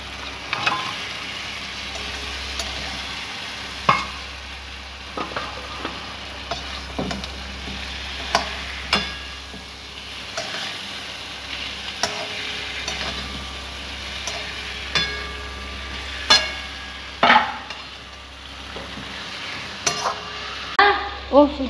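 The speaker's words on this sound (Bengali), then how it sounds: "এবার চিংড়ি মাছটা দিয়ে নাড়িয়ে নেব।" Giant freshwater prawns stirred and fried in hot oil in a pan, with a steady low sizzle broken by frequent sharp scraping and clicking knocks of the spoon against the pan.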